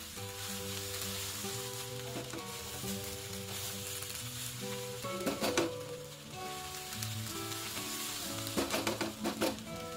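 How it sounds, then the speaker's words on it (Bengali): Vegetable fried rice sizzles in a wok while a spatula stirs and scrapes it, a steady close crackling hiss broken by several sharp metallic clinks. "সবকটা উপকরণ আমি আলতোভাবে স্প্যাচুলা দিয়ে কড়াইটাতে ঘুরিয়ে ঘুরিয়ে মিশিয়ে নিচ্ছি।"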